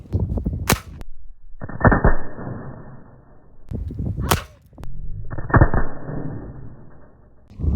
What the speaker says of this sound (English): I'll shoot the 2 wax slugs, then I'm going to shoot the 222 bullets, and then we're going to shoot the shell with birdshot.